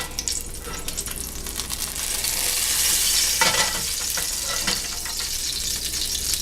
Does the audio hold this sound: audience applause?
no